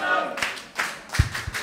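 A wrestling crowd in Leipzig applauds a match, a short burst of scattered claps and hand taps at close range.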